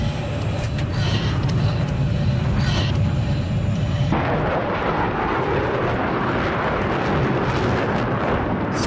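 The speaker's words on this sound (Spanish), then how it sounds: "Atención, he avistado un caza enemigo." An enemy fighter jet flies over in the Battlefield 3 video game. A loud, continuous roar fills the whole stretch, and its tone shifts abruptly partway through, with no voices.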